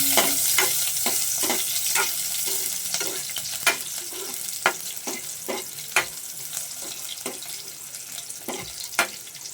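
Onion and garlic fry in a pan, a bright continuous sizzle with regular sharp clicks and scrapes of a utensil stirring, close and fairly loud, with no talk.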